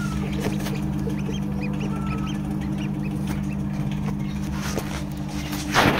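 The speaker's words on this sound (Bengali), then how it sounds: "হাঁসের বাচ্চা বের হয়ে গেছে" Newly hatched ducklings in a hatchery, many small high peeps scattered over a steady machine hum, with a louder rustling burst at the very end.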